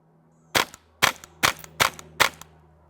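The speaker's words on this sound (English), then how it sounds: "Let's see what it sounds like on some rifles." Five suppressed rifle shots from a rifle fitted with a Wilson Combat WCR-22 rimfire silencer, evenly spaced at about half-second intervals, each a short sharp crack, fairly close and alone.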